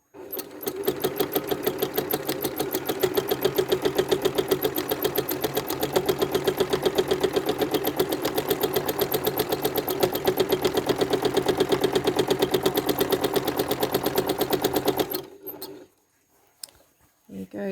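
A sewing machine quilting straight lines runs loud and steady with rapid, even stitching pulses for about fifteen seconds, then stops abruptly into near silence.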